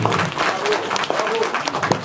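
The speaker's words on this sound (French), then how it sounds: "Applaudissez s'il vous plaît." Audience applause at a Haitian gathering, a dense continuous patter of many hands filling the room, with some voices mixed in underneath.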